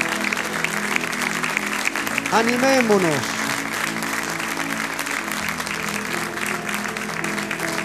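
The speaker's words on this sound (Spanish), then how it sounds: "Denle un aplauso grande al Señor." A church congregation at a Sunday evangelical service in Santiago, Chile, breaks into sustained applause that fills the room, while a preacher's amplified voice speaks over it.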